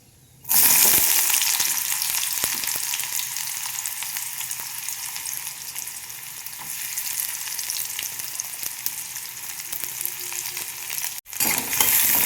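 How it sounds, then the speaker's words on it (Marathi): Onion slices sizzle loudly in hot oil with mustard seeds and cumin, a dense steady crackle that starts abruptly and holds with faint stirring scrapes before cutting off near the end. "कांदा थोडासा तळून घ्यायचा आहे हलका"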